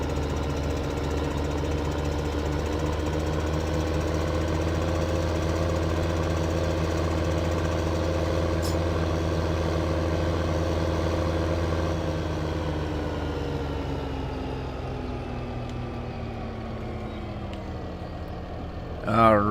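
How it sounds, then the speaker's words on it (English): Pickup truck in the video game Farming Simulator 2015 on a Nebraska map, its engine idling in a steady, loud, low drone that holds throughout and eases slightly in pitch near the end. "let's go get the pick-em-up truck"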